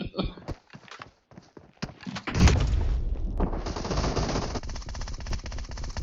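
Gunfire in the PUBG Mobile game, with a Vector submachine gun in use: a few sharp, scattered shots, then a dense, sustained burst of rapid automatic fire.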